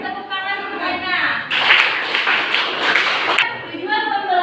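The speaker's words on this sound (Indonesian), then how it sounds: "Kasih tepuk tangan untuk Aina." A classroom claps for a student named Aina: a burst of many hands clapping for about two seconds, close and lively, framed by a teacher talking before and after.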